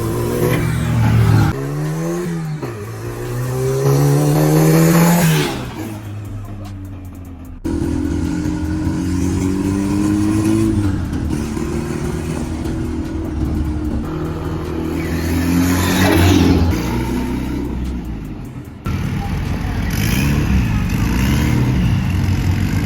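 Turbocharged car fitted with a hood exit exhaust system revving repeatedly, each rev rising to a loud rasping roar then dropping back to a burbling idle, close by.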